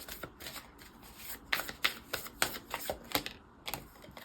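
Tarot cards being shuffled by hand in quick, uneven bursts of crisp riffling and snapping, close and fairly quiet, with no talk.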